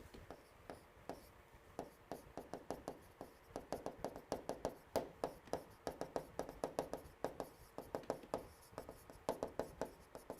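Pen or marker writing out an answer sheet in vertical lines, a steady run of quick scratchy strokes and taps repeating close up throughout, with no talking.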